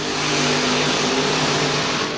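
An NHRA drag racing car's engine in a final round, a steady, dense roar with a low harmonic drone held loud and constant throughout.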